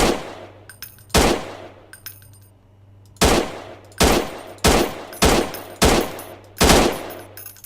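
Gunfire in the PC video game Martial Law: a string of loud, sharp single shots with short gaps, then a quicker burst of evenly spaced reports, each ringing briefly, and no one talking.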